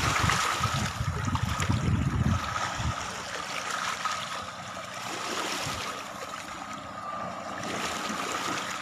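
Sea waves at the Cabadbaran city shore, a steady wash of surf and water noise with a low rumbling burst near the start, continuous and fairly close.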